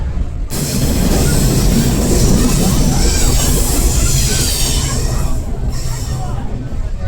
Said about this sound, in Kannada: ಈಗ ಟ್ರೈನ್ ಇದೆ